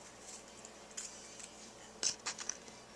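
Scissors trim excess paper off the edge of a handmade Christmas card, giving faint crisp snips and rustles, with a few sharper cuts clustered near the end, close by and with no one talking.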